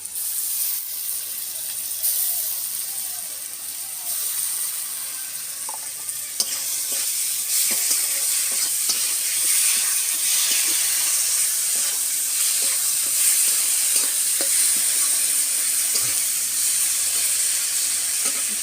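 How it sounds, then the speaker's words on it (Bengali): Ginger garlic paste sizzles steadily in hot oil in a pan for methi chicken, a continuous close frying hiss with occasional stirring scrapes and no talking. "এবার আমি আদা রসুন পেস্টটা দিয়ে দেব।"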